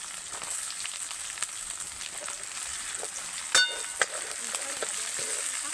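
Garlic, ginger, green chilli paste and onion sizzle steadily in hot oil for a Gujarati peanut bhajiya curry, a continuous close frying hiss with a couple of sharp spatters and light stirring knocks, no talking.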